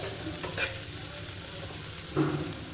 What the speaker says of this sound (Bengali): পেঁয়াজ, ক্যাপসিকাম আর লঙ্কাটা একসাথে ভেজে নেব।